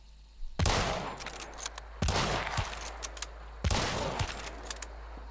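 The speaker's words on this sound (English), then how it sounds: "I heard that gunshot, so I looked in that direction" Repeated bursts of gunfire in the video game Hunt: Showdown, three loud close volleys spaced a couple of seconds apart, each a sharp crack followed by scattered rapid shots and a decaying tail.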